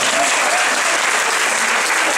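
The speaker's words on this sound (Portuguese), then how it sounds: "Aplausos" Dense, sustained applause from a women's audience at a motivational talk, a steady wash of many hands clapping together at full loudness for the whole stretch, with no voices standing out.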